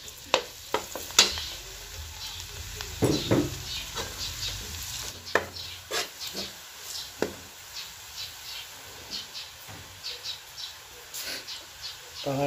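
Garlic frying in a pan, with soft crackling sizzle and a few sharp stirring clicks and taps spread unevenly through the stretch, moderately quiet and close.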